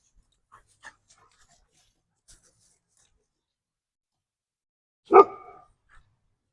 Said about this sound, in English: Some happy dogs again.